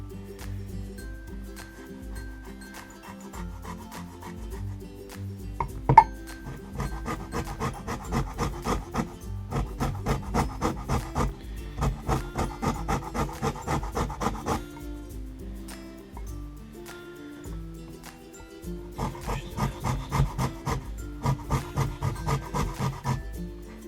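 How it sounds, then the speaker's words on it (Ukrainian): Steady rhythmic rasping scrapes in repeated bursts, a grater zesting a lemon close up, with brief pauses between runs and one sharp knock early on. "Витираємо цедру лимона четверту столову ложки."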